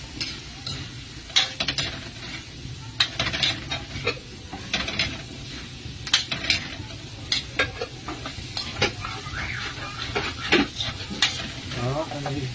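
Squash is added to a frying pan and sizzles steadily while a utensil stirs it with frequent sharp scrapes and clinks, heard close up.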